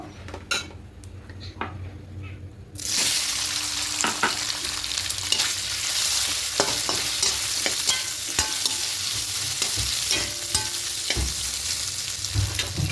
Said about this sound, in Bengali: এবার এই তেলের মধ্যে সোয়াবিনগুলোকে ভেজে নেব